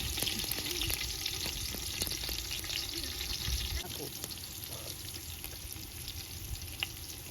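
Whole spices sizzle and crackle steadily in hot oil in a pan, cooked outdoors in a farm field for bagara rice, with a continuous close frying hiss and occasional stirring clicks.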